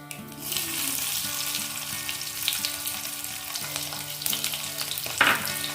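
Crushed garlic fries in a hot pan for a pomfret posto-sorshe dish, giving a steady, loud, close sizzle with occasional stirring scrapes and a sharper clatter near the end.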